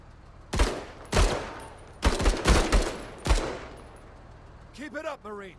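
Strafing gunfire crackles in a strategy video game, with five heavy bursts arriving at irregular intervals, loud and close, followed by a short voiced sound at the end.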